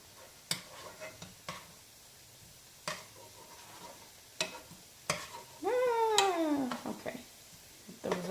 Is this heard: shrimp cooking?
yes